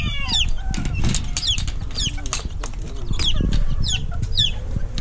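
A backyard hen, recently laid, clucks repeatedly at close range amid busy farmyard noise, with wing flaps and other birds around and a voice speaking briefly.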